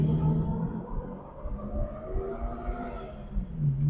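A car with a GM Roto-Hydramatic "Slim Jim" automatic transmission pulls away at low revs, its engine droning low and steady with a slight uneven surge, heard close from inside the cabin.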